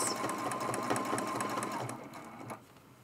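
A sewing machine stitches turkey feathers on a fabric mug rug, a quiet, fast, even clatter of the needle for about two and a half seconds before it slows and stops.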